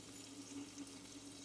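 Water is poured into chicken simmering with dark soy sauce in a pan, a soft, steady liquid hiss and trickle heard faintly and close with no talking.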